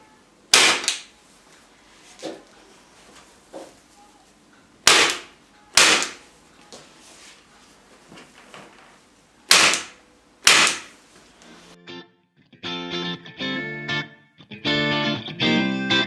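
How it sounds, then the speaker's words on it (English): A staple gun fires staples through fabric stretched over a wooden canvas frame for a tufted headboard, making about six sharp, loud, separate snaps spaced a second or more apart, followed by music. "What you do is you pull it and then you staple."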